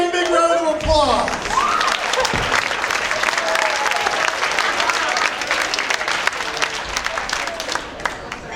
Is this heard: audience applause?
yes